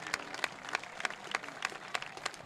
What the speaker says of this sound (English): Applause from the fans and both squads.